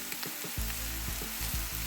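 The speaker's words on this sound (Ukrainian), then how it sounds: "Смажимо засмажку на середньому вогні, частенько перемішуючи." Vegetables frying in oil in a covered pan for a hake dish, a soft continuous sizzle broken by a few stirring scrapes, close and quiet with no talk.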